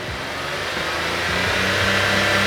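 A 2020 Proton X50 three-cylinder engine revs up, a steady mid-pitched drone climbing in pitch and loudness over a couple of seconds, close and alone.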